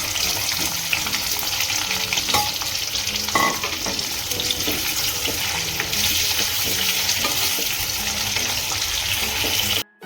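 Boiled baby potatoes with holes pierced in them fry in a pan for a green potato curry, giving a steady, loud close sizzle with scraping stirs throughout, then cutting off abruptly at the very end.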